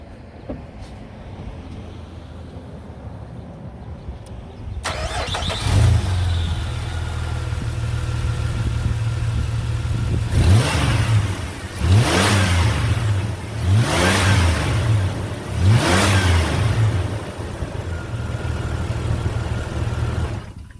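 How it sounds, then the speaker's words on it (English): A 2006 Jeep LJ engine cranks and catches, then idles steadily before being revved several times in quick swells, loud and close, with no belt squeal and no talking. "we're going to go ahead and start the engine, make sure the serpentine belt isn't squealing"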